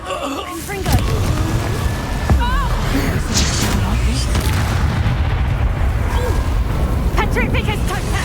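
Confringo fire spell exploding in a Hogwarts game, a loud booming blast followed by sustained rumbling crackle, with a voice speaking over it.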